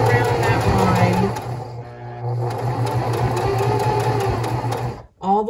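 A sewing machine stitching felt, close steady whirring runs with a short slowdown midway before stitching resumes, then stopping near the end, while a person talks over it.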